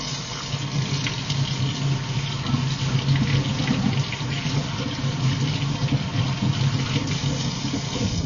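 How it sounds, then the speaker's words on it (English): Tap water runs steadily into a sink as hands are washed, a continuous splashing flow with a low hum underneath and no talking. "I gotta wash my hands"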